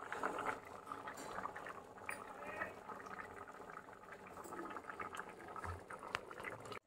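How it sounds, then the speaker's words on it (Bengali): Chickpea ghugni simmering in a covered pot, a quiet bubbling and gurgling with soft irregular pops and small lid rattles, steady and fairly faint throughout with no talking. "এবার ফোটার জন্য অপেক্ষা করতে হবে।"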